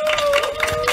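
A crowd at an outdoor candlelight street rally applauds for lawmaker Kim Nam-guk. The clapping comes in a short, steady patter of soft bursts, fairly close, under a sustained tone.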